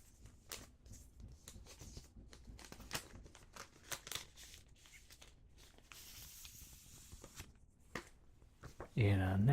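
Sketchbook pages of a different paper quality being handled and flipped, giving soft, close crinkles and crisp page turns in an irregular rhythm, with a louder rustle at the very end.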